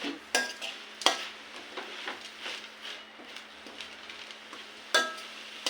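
A spoon scrapes and clinks in a pan as tajank greens are mixed with the tempering. Irregular stirring strokes, a few sharper metallic knocks, and a low sizzle underneath are all close and moderate in volume.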